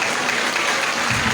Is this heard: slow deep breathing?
no